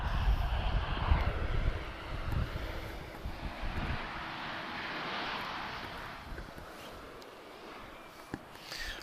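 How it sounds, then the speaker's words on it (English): An Airbus A321 airliner turning onto the runway at Lisbon Airport gives a steady, broad jet-engine roar that swells and then eases, with wind buffeting the microphone throughout and no voices. "next departure, we've got A321 turning onto the runway now"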